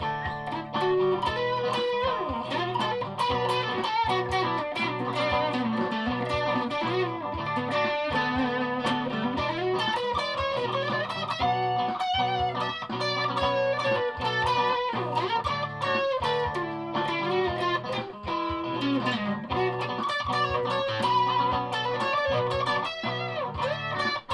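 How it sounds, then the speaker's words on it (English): An electric guitar in coil-split mode plays chords and riffs through a Joyo US Dream distortion pedal, heavy distortion, sustained and loud, with no voices. "Joyo US Dream distortion pedal."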